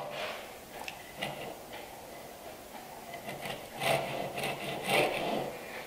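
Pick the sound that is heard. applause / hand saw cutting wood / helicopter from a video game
hand saw cutting wood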